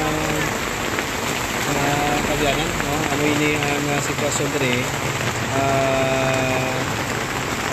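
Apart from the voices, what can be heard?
heavy rain falling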